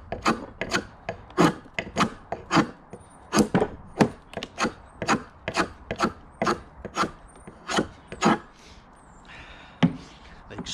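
Draw knife shaving the corners of a wooden leg for a Roman workbench: about a dozen crisp, rasping strokes in a steady rhythm, close and loud, with brief pauses between pulls.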